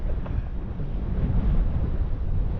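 Cold wind blowing across the seashore of the Conwy Estuary during sea fishing, a steady low rumbling gust buffeting the microphone throughout, with no talking.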